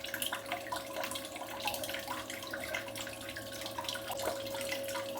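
Steady running water flows during gold recovery, with a faint drip and splash texture and a constant tone underneath, continuous and fairly quiet with no talk.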